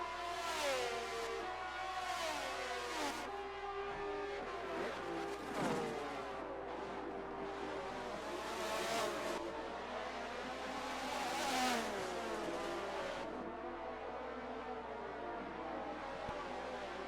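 IndyCar race cars battle for position in a racing video game at the Indianapolis GP circuit, several engines whining and sweeping up and down through gears, with passing surges and occasional tire noise, continuous and dense.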